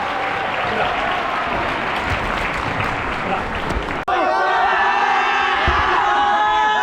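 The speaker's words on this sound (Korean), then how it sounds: "우리 고생한 선생님들 그리고 고생한 친구들에게 뜨거운 박수 한번 부탁드립니다" Loud applause and cheering from a crowd at a school basketball event in Korea, with dense clapping and whoops for about four seconds before cutting abruptly to other sound with voices.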